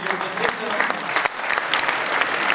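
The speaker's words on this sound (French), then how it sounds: "je vous demanderai tous d'applaudir tous les petits cuisiniers en herbe qui ont travaillé aujourd'hui" A school audience applauds the young cooks at a children's cooking contest at a school in Ciney, with dense, steady clapping from many hands throughout.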